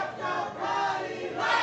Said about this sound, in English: Crowd getting behind Cuddy just a little bit.